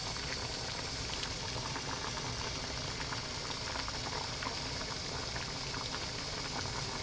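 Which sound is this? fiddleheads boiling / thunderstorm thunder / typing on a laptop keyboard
fiddleheads boiling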